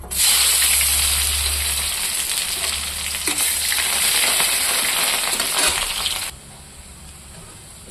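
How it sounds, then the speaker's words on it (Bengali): Chopped onion hits hot oil in a pan and fries with a loud, dense, steady sizzle that drops to a quieter crackle near the end; no one speaks. "প্রথমে আমি দিয়ে দিলাম পেঁয়াজ"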